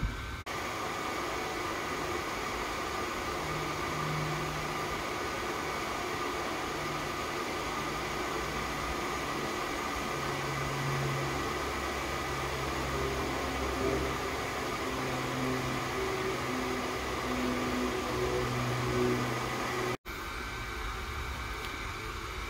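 An xTool D1 laser cutter works through 1/4 inch plywood with a steady hissing, fan-like hum and shifting faint motor whines as the head moves, constant for about twenty seconds before a brief cut and quieter continuation.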